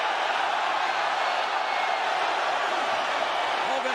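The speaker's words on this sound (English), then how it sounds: "Listen to the crowd, man" A crowd at the WWF Backlash 2002 wrestling event roars in a big arena, a steady, dense wall of cheering that holds at a constant loud level throughout, heard from a distance.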